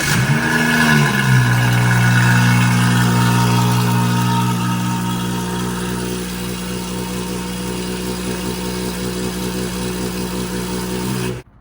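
A BMW B58 engine turns over and catches, revving briefly before settling into a steady, loud idle that runs on and then cuts off.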